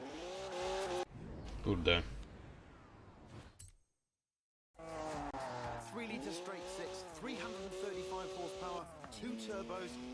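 A tuned car drives in Forza Horizon 4, its engine note rising and falling through gear changes with brief tire squeal, cut by a short silent gap before the revving resumes.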